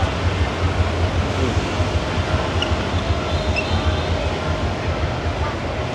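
A train rumbles steadily along the tracks, a continuous low roar with faint rhythmic rattling throughout, close and fairly loud.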